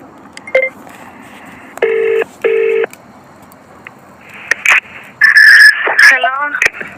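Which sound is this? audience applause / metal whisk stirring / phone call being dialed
phone call being dialed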